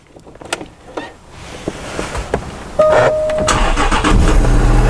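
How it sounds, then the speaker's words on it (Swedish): A Jaguar XF is started with the key in the emergency slot: faint interior clicks and handling noises, a short electric whir, then the engine cranks and catches into a loud, steady idle close by. "Och då kan man starta bilen."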